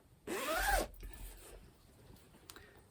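A small zipper on a fabric project bag's back pocket is pulled in one quick, close rasping run, followed by faint handling rustles and a light click.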